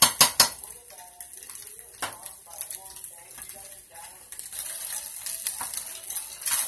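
Shrimp for pork and shrimp fried rice cooking in a pan, with steady sizzling under clinks and scrapes of a utensil against the metal, close by; a voice talks briefly.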